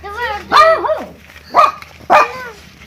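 A small dog gives three sharp yipping barks in quick succession, close and loud, while a person talks softly in Turkish around them.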